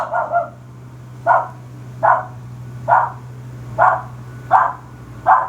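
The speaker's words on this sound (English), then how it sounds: "That's naughty Pixar barking at the man on the lawnmower." A dog barks at a steady pace, seven sharp single barks about a second apart, fairly close, over a low constant hum.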